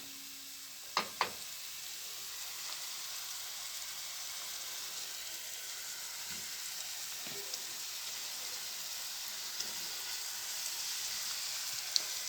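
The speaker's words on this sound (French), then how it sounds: "mes oignons et l'ail se sont bien saisis. Je vais y rajouter la viande." Beef meets a pan of onions and garlic already sautéed for a Loubia white bean stew, and a steady sizzle hisses throughout, marked by a couple of sharp clinks of a utensil at the start and a few faint taps later.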